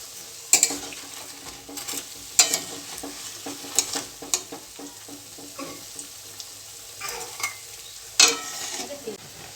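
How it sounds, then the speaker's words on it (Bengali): Onion pakoras frying in hot oil, a steady close sizzle broken by sharp clinks and scrapes of a utensil stirring and turning them, with no talking. "এইভাবে তেলে প্রথমে একবার ভেজে নিতে হবে সবগুলোকে।"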